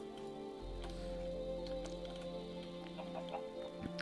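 Minecraft chicken clucking in the game, short soft clucks over a steady game background hum with light clicks.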